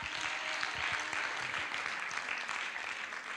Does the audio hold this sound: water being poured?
no